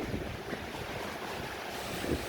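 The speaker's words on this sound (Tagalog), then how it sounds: "Yan, laki ng alon no." A steady wash of surf rolls continuously with wind rumbling against the microphone, constant and moderately loud, with no voices.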